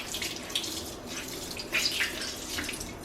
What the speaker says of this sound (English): I'm gonna start washing this Real Technique sponge. So what I do is I wet it